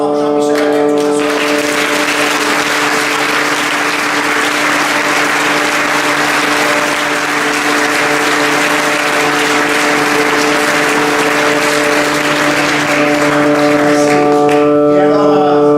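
In the French Senate, a ceremony audience applauds steadily and loudly for a full fifteen seconds, while sustained musical tones hum beneath the dense clapping, which fades at the very end.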